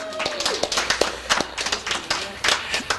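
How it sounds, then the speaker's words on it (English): Audience at an open mic night clapping after a poem performance, scattered sharp claps of modest size rising and falling, fairly close, with some murmuring voices mixed in. "big round of applause for Loveby for that performance"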